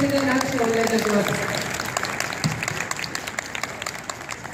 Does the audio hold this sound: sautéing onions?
no